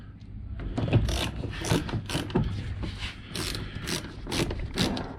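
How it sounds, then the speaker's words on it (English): A screwdriver turns a large silver Phillips screw into a Lexus NX300h front door card, giving repeated ratcheting clicks in short bursts, close and fairly loud, with no talking. "now let's start with this big silver Phillips screw"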